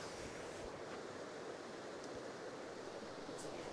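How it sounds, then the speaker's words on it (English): The Bumping River flows in mid-October as a steady, broad rushing of water, even and continuous like surf, with light wind noise and no voices. "give you a very soothing shot of the Bumping River in mid-October"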